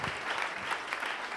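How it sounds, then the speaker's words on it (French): Brief burst of steady clapping from a church congregation during a French-language service, continuous and moderately distant. "Acclame encore le Seigneur."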